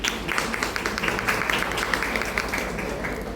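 An audience applauds the mayor at a World Autism Awareness Day event in Serra do Navio, a dense, fairly soft patter of many hands clapping continuously.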